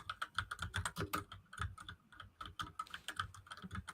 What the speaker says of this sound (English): I hear loud typing. Who's typing loud?